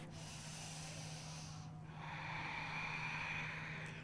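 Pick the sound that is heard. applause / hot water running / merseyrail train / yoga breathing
yoga breathing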